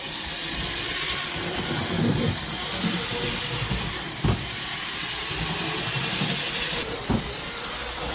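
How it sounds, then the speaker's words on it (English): A Hornby model train runs around its track loop with a continuous hissing, whirring rumble, broken by a few soft clicks as it crosses rail joints. "So it's official. I have my first train doing its loop."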